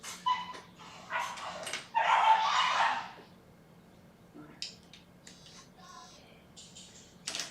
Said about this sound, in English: Dogs being crazy dogs.